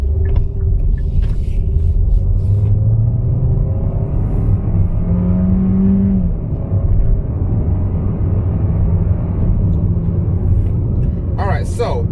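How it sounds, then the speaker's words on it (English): 2021 Kia K5 in sport mode accelerating to 60 mph, heard from inside as a loud, steady low rumble of engine and road noise building gradually. "let's go ahead and kick it to sport mode and do a quick acceleration up to 60 miles an hour"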